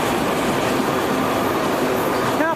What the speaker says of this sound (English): train that will be approaching here in just a bit.